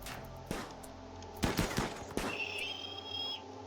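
Gunfire in the RimWorld video game: a few sharp, separate shots at uneven intervals, followed by a thin whistling tone holding for about a second.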